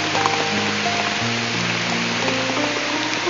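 A downpour hisses loud and constant nearby, a thick unbroken wash of falling water with a low hum beneath it and no voices.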